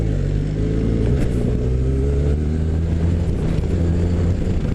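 A car engine revs on a road in Italy, a loud, steady droning growl whose pitch climbs and eases back, with no talking.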